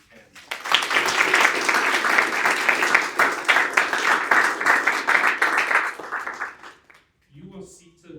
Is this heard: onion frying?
no